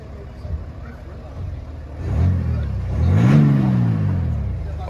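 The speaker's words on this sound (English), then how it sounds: "Give it a little revs here." A BMW 8 Series engine is revved twice, a short rise around two seconds and then a longer, louder climb and fall, with a low idling rumble underneath and faint voices nearby.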